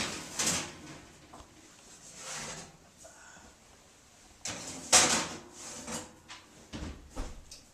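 Cookie trays slide into a home oven with metallic scrapes and rubbing, followed by knocks and a thud as the oven door shuts, a series of close, irregular clatters.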